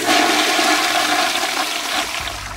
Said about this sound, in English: How many of you got to hear a coworker pee in 2020?